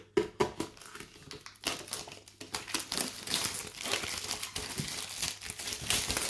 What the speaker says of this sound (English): Let's open up the box and see what's inside.